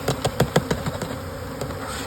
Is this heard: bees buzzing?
yes